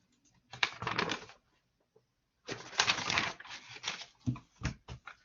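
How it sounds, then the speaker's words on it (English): Keyboard typing in two bursts of rapid clicking, close and fairly quiet, separated by a pause, followed by a few scattered keystrokes. "Typing."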